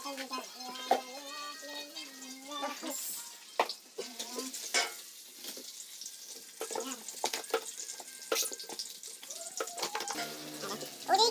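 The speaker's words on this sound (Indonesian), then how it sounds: "kita masukkan cabai yang kita ulek tadi cuy. Kita aduk sampai rata." Steady sizzling and scraping of fried rice being stirred in a hot wok, with a spatula clacking against metal and a voice talking over it.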